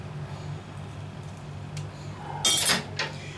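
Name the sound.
stirring zucchini and chicken with spices in a dish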